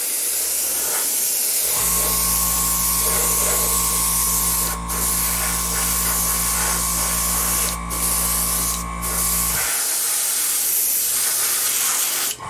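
An airbrush spraying a light coat of paint onto a 1000-scale Voyager model, a long steady hiss with a droning compressor tone that runs about eight seconds and then cuts off, close up and with no talking.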